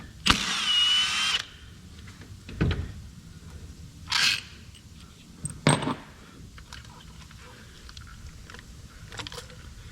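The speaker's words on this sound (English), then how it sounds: "we can come in here with our T40 little socket bit and carefully remove these two bolts" A T40 socket bit backs out valve cover bolts on a Chevy Sonic engine, with a loud power-tool whir at the start, then scattered metallic clicks, clunks and rattles of the bolts and tool against a quiet background.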